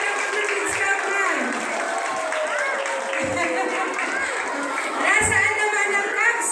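Schoolchildren at an elementary school scouting event perform a Kids Scout clap, rhythmic group clapping mixed with children's shouting and cheering voices, with a few sharp accented beats standing out.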